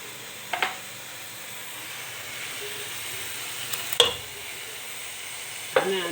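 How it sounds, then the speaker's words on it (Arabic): Chopped onion and garlic fry in oil with hot cloves in a pot, a steady close sizzle and hiss broken by a few sharp clacks of a utensil against the pan. "المهم انا ديما نرحل الثوم تاعي مع البصل وقرنفل الحار، نقلي مليح كما راكم تشوفوا"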